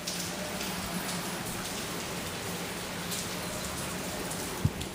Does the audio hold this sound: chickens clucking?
no